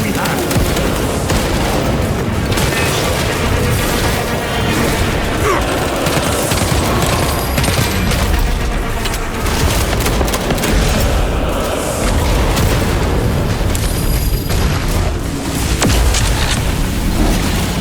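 Dense gunfire and heavy explosions fill a chaotic battle in the video game Warhammer 40,000: Space Marine 2, with rapid bursts, booms and shouted voices layered continuously throughout, loud and close.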